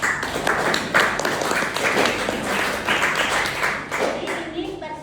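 Classroom applause for a student group in a university course session, a steady wash of clapping from many hands lasting throughout, fairly loud and close, with some voices mixed in underneath.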